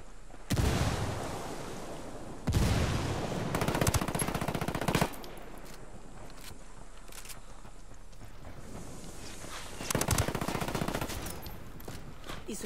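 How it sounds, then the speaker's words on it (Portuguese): Bursts of automatic gunfire in the shooter game Ghost Recon Wildlands, loud, rapid rattling volleys in several separate bursts with quieter gaps between them. "Estão atirando."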